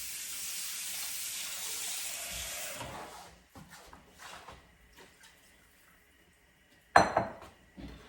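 Cold water runs into a pan of pork ribs for soup, a steady close pouring hiss for about three seconds, followed by quieter clinks and knocks of pan and utensils and one sharp clatter.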